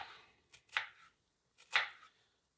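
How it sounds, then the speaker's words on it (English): A knife chops onions on a board for Hungarian pork stew, two crisp separate cuts about a second apart, close and clear with near silence between. "Now, cube your onions up"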